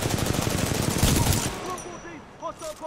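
Rapid automatic gunfire in the first-person shooter Titanfall 2 while the player character runs, a dense rattling burst for over a second that cuts off, followed by a voice over game sounds.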